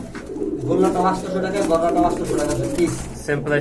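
Golla (Rasgolla) pigeons coo in low, rolling gurgles close by, the calls repeating over and over, with a voice briefly audible at the end.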